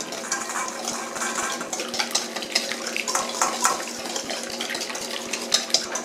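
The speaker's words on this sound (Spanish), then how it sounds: "Mezclamos todo." Chopped vegetables are tossed with salt and garlic powder in a bowl before roasting, making soft, continuous stirring and rustling with small clicks from the utensil against the bowl.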